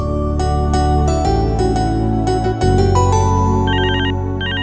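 A mobile phone's melodic ringtone plays loudly and continuously in a Hindi dubbed film scene, with its repeating electronic tune ringing alone and no talking over it.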